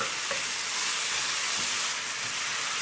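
Vegetables and curry cook in a pan, making a steady, close sizzling and frying hiss with faint stirring, and no talking.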